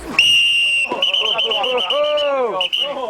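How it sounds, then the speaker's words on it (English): A shrill, sustained whistle blast sounds first, then further whistle tones mix with loud shouting voices. "the whistle means stop"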